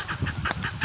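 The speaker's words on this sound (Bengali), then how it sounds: "ছোট্ট হাঁস, তার বাচ্চা।" A duck with its ducklings near a pond in the rain in Panchagarh gives a quick run of loud, close quacks, one after another, over a steady background hiss.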